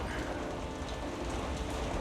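Heavy rain pours steadily in a dense, continuous hiss with a low rumble beneath, loud and close throughout with no voices.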